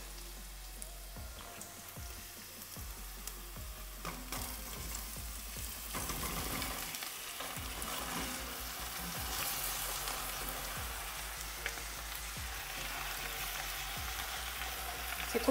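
Zucchini sizzling in a hot pan over already softened onion, a steady close frying hiss broken by repeated scraping and knocking as the pieces are stirred, with no talking.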